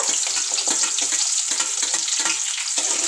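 Chopped onions sizzle loudly in well-heated oil while a Sunday chicken and potato kurma is being made. The frying is a dense, continuous crackle close by, with no talking.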